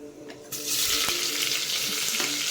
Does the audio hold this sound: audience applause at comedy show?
no